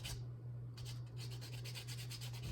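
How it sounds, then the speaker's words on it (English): Sandpaper rubbed along the edges of a wooden printing block, a continuous close scratchy rasp of repeated short strokes over a steady low hum. "Turn it to the side, and just use sandpaper like this"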